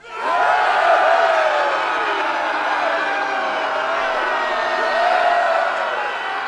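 A television studio audience on a talk show hosted by Javier Sardá erupts in loud cheering and crowd noise, a steady roar with whoops that holds for several seconds before easing slightly.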